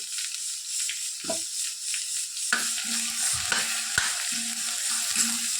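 Masala frying in a pan for goat head curry while a spoon stirs it, a steady close sizzle with repeated scraping strokes and a few sharp clinks against the metal.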